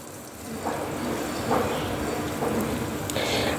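Curry frying in hot oil with chopped onions and spices for a papaya dish, a steady soft sizzle like light rain with occasional louder spatters, close and without talk.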